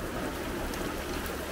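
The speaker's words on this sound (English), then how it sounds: "Just got back to the car and I'm protecting myself from the rain." Rain falls steadily on Dartmoor in Devon, a dense even hiss with no gaps, heard briefly and at a constant level.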